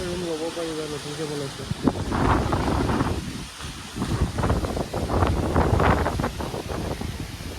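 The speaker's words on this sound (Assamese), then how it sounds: "কি বতাহ মাৰিছে বা ময়ে উৰি যাম" Strong wind rumbles across the microphone while people talk close by, gusts swelling under their voices.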